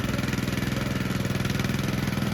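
A tractor engine chugs steadily at close range while ploughing a field, its deep rhythmic thrum holding an even pace throughout.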